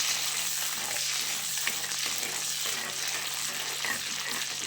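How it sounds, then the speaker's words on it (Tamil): Curry leaves, mustard seeds and fenugreek fry in hot oil, giving a steady, close sizzle with fine crackling spatter that runs unbroken throughout. "கருவேப்பிலை, கடுகு, வெந்தயம்லாம் போட்டதுக்கப்புறம் அது பொரிஞ்சு வர வரைக்கும் வெயிட் பண்ண வேண்டியதில்லை"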